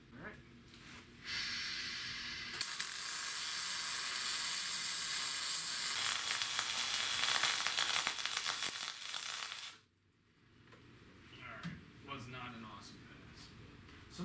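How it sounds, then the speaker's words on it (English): Welding wire arcs and sparks against metal, a loud continuous crackling sizzle for several seconds that stops abruptly, followed by faint rustling and quiet sounds. "the wire is physically hitting the metal, right, and then getting a spark and then melting back"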